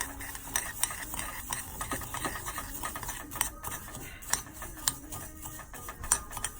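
A utensil stirs ingredients together in a bowl while making chicken parmesan, giving quiet, irregular ticking scrapes and clinks at close range.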